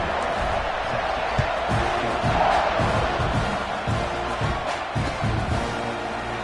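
Football stadium crowd roars and cheers at kickoff, a dense far-spread swell of voices with rhythmic chanting pulses, loud and sustained for several seconds.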